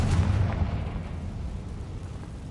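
A Confringo blasting curse explodes in a video game, a dull, booming roar that carries on steadily for a couple of seconds with no speech.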